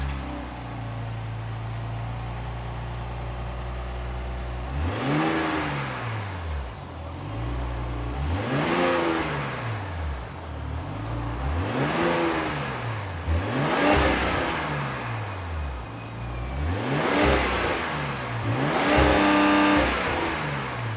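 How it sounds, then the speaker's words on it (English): Hurricane 3-liter twin-turbo straight six in a 2026 Ram 1500 Rebel pickup revs from a steady idle in a run of about six rising and falling blips, evenly spaced, loud and near. "that was the sound of the Hurricane 3-liter twin-turbo straight six sold by Ram for the 2026"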